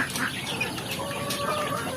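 Free-range village chickens in farm pens cluck and chatter close by in a short, busy burst of overlapping calls.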